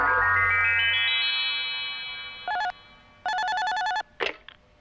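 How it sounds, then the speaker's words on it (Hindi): A telephone rings in a Hindi-dubbed Doraemon cartoon, an electronic ringing tone in a rising sweep followed by two short bursts of bright ringing and a final chime, clear and alone. "सुनियो तुम्हारे लिए नोबिता का फोन है।"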